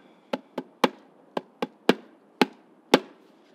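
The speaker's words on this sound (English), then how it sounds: "Again, this is the bass drum." Homemade bass drum struck eight times in an irregular rhythm, each hit a sharp close thump with a brief decay, played alone with quiet gaps between beats.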